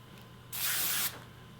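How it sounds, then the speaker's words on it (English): A single close, steady aerosol hiss of Ion Workable Shine Hairspray sprayed onto the front of the hair, lasting about half a second against quiet room tone. "I'm gonna spray the front"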